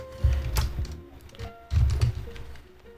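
Typing on a computer keyboard while setting up input controls in the Godot game engine: scattered soft key taps and clacks close by, under a low background rumble.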